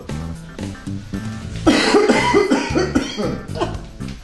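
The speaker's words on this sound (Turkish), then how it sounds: "Herkes öksürüyor." Several people cough in turn, close and loud, with a low tonal hum beneath; the coughs come in rapid overlapping bursts from about the middle onward, with a few throat clears mixed in.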